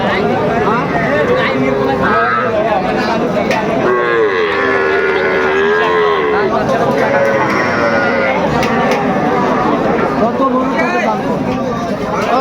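Young bulls and crossbred calves moo repeatedly at a crowded Raniganj cattle market, loud drawn-out calls overlapping one another above a dense babble of traders talking and haggling throughout.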